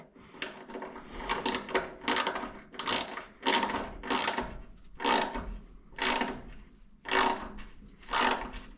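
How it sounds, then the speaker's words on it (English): A part is unscrewed by hand during an AirDog 150 fuel pump install on a 2nd Gen Cummins, giving a series of about nine ratcheting, clicking bursts at a steady rhythm, close and fairly loud, with no voice. "And carefully unscrew it."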